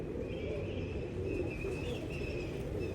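An Inteeq-class fancy pigeon gives soft, low cooing, fairly faint over a steady background hum, with a few thin chirps from other birds nearby.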